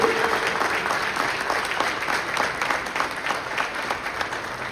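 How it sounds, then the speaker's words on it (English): Steady applause from an audience at a union general assembly in Puerto Rico, a dense wash of many hands clapping at even loudness throughout, with no speech over it. "Give yourselves a round of applause for everything that you do."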